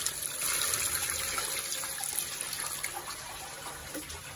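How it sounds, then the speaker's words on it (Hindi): Water poured from a height into a large pot holding meat and trotters for Lahori bong paya, a steady, fairly quiet splashing gush that runs without a break and eases slightly toward the end. "अब 2 लीटर और डाल रही हूँ।"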